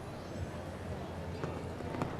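Hooves of a show-jumping horse at a Longines Global Champions Tour Grand Prix in Miami Beach thud in a soft, fairly faint rhythm beneath steady arena noise and commentary.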